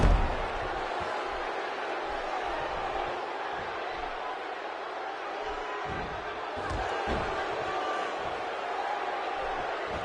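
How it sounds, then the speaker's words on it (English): A large wrestling video game arena crowd roars steadily for the full stretch, a dense wash of cheering with a few louder swells and thumps, no voice standing out. "by the sound of this crowd, I think they're getting what they wanted."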